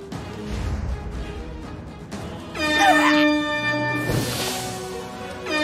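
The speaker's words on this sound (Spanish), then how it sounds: "Esta no la probamos, bocina cojonera." A loud, blaring air horn blast from the South Park: The Stick of Truth video game sounds after some game noise, a sustained honk followed by a rushing burst.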